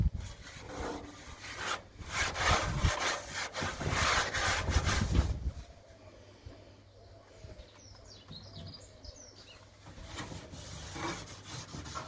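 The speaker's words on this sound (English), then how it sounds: "Make sure you get everything nicely oiled." Oil being rubbed by hand over both sides of a cast iron cooking grate from a MasterBuilt Gravity Series 560 grill, heard as close scraping rubs for about five seconds before fading to quieter handling, with faint birdsong outdoors.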